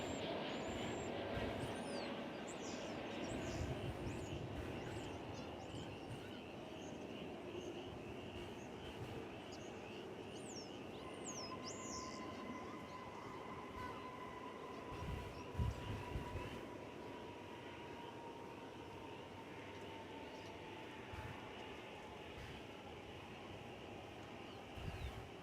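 A jet taking off at DFW Airport, its engine roar a distant, steady rumble that holds for the whole stretch, with faint higher tones drifting through and no voices.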